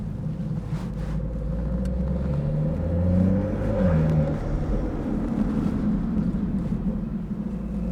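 A BMW B58 engine rumbles steadily and swells as it revs, its turbo spooling and the exhaust burbling, heard alone with no voices.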